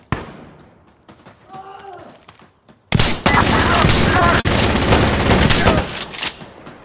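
Shotgun blasts and gunfire in the tactical shooter Insurgency Sandstorm; a few quieter sounds lead into a loud, dense burst of heavy shots that fills the second half, with one brief drop in the middle.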